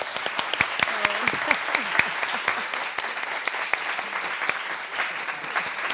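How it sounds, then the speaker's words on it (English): An audience applauds a panel of women with dense, sustained clapping and scattered sharp claps, fairly loud and close, with a faint voice briefly underneath. "I just want to give another round of applause to these brilliant women who are up here today."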